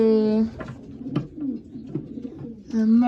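Breeding pigeons cooing close by in soft throaty bursts at the start and end, with a person speaking in between.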